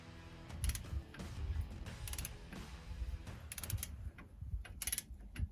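Torque wrench ratcheting as leaf spring bolts on a Ford Ranger are tightened toward 100 foot-pounds, quiet close clicking strokes in several separate bursts between bumps and handling noise.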